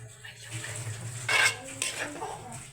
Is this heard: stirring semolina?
yes